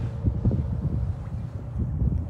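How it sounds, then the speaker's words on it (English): Wind blowing by the water at Bay Park on a sunny morning, a steady low rumbling buffet of gusts across the microphone, fairly loud and continuous with no talking. "a little bit windy today"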